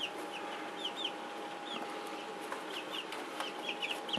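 Barred Rock baby chicks in a brooder give soft, high peeping chirps scattered throughout at moderate level, with short chirps in irregular bursts over a steady low hum and no talking.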